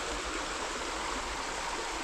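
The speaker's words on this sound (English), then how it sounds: "it's just a bit of pocket water really." A small stream of pocket water on a UK wild trout river flows with a steady, close, continuous rushing and trickling hiss, with no voices.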